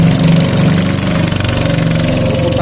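A fishing boat's motor idles steadily at a riverside fish landing in Hagonoy, Bulacan, a loud, close, continuous throbbing drone with no voices.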